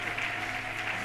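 A church congregation applauding loudly for the Lord, dense, steady clapping from many hands filling the room with no pause.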